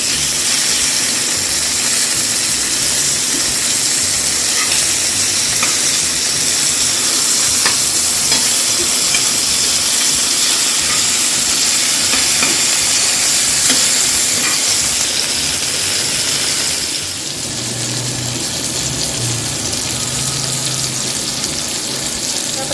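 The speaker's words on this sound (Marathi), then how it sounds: "कोलबीला ना पलटी मारून घेते" Prawns fry in a pan with a loud, continuous sizzle and steam hiss, briefly dipping partway through as they are flipped, close up and with no voices.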